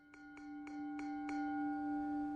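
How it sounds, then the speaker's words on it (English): A bell in a video game strikes five times at an even, quick pace, each clear metallic hit leaving a long, steady ringing tone that sustains and builds, with no voices. "The bell sounds is very satisfying though. 7 bells."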